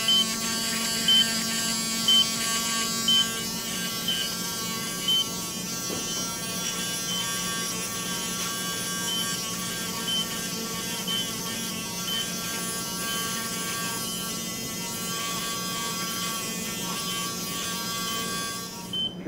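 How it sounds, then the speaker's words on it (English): A powered surgical rasp grinds down a heel bone spur during foot surgery, a steady high-pitched electric buzz with many harmonics running continuously and fairly close, without talk. "to reveal the bone spur so I can file it down"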